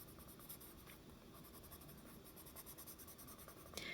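Oil-based colored pencil shading on paper with firm pressure, a soft, continuous scratchy rasp with rhythmic strokes, faint and close, heard alone.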